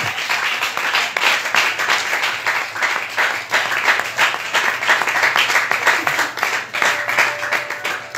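A church congregation applauds loudly and continuously in dense, rapid clapping that fills the hall, with a few voices rising underneath.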